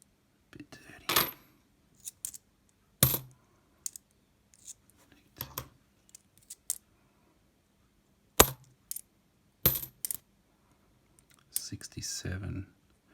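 Australian two-cent copper coins clink and drop sharply one or two at a time while being sorted, a sparse sequence of bright metallic taps with a quiet voice murmuring between them.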